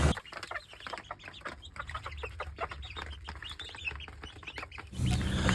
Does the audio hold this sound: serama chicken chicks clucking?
yes